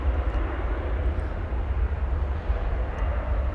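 Martinair cargo airplane taxiing on the ground at DFW airport, a steady loud low engine rumble and roar holding constant throughout with no voices.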